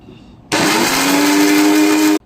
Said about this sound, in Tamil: இப்போ இதில் ஆனியன் போடணும். இதை நல்லா கிரைண்ட் பண்ணணும்.